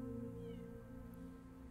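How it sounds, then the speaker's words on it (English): A cat meows in the cozy cat-simulator game Copycat, a steady, sustained call that carries across the whole moment over a constant, humming game backdrop. "And this one will meow at absolutely anything that moves"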